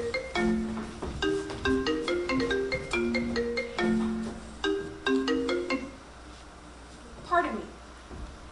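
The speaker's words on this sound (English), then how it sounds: "Dr. Callahan, your mother is on the phone for you" A telephone rings during a staged science musical: a melodic electronic ringtone repeats for about six seconds, followed by a brief sliding tone.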